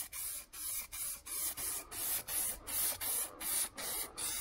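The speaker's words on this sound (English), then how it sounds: "So just dust that on." Fade-out thinner dusted from an aerosol onto the edge of fresh lacquer on a car panel: a dozen short, even hissing sprays in steady rhythm, each cut by a brief pause, close and fairly loud with no talk.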